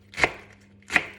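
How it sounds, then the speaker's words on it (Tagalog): Two crisp knife strokes hit a cutting board while slicing vegetables, spaced under a second apart, close and clear with nothing else audible. "hiwain na lang gamit ang kutsilyo"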